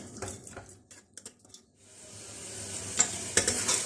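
Mutton pieces fry in oil in a pan over low heat, with a few scattered spatula clicks and stirs first, then a rising, continuous crackling sizzle that holds to the end at moderate volume.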